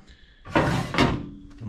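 A workshop drawer holding sandpaper is pulled open with two quick, close scraping slides, each lasting a fraction of a second, followed by a soft knock.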